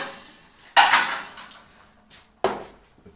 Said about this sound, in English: And now we're gonna get a nice pan.